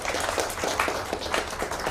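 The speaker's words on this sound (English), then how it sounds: "क्यों ना एक बार refreshing claps भी हो जाए" Audience clapping at a blood transfusion centre event after a presentation, a steady dense patter of many hands at moderate level across the whole stretch.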